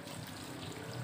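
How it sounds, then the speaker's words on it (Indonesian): Water poured over the roots of a Kimeng Karang bonsai during repotting, a faint continuous trickling splash lasting about a second, with no talking. "Setelah itu kita siram dulu."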